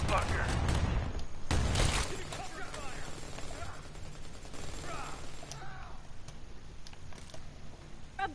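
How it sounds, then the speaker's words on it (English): A grenade launcher fires in Predator Hunting Grounds, with heavy booming blasts early on followed by continuous rumbling combat noise and scattered voices talking over it. "Using the grenade launcher."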